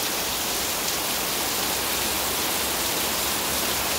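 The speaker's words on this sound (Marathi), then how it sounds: "तुम्हाला दाखवते आमच्या कणकवलीत किती पाऊस पडत आहे" Heavy monsoon rain pours down in Kankavli, Konkan, in a dense, constant hiss, loud and unbroken throughout with no voices.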